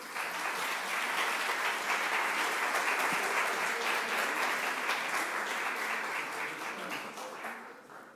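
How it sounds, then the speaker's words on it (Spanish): Sustained applause from an audience at a labour law congress at the Costa Rican bar association, dense steady clapping filling the room throughout before tapering slightly at the end. "Un aplauso para ellos, por favor."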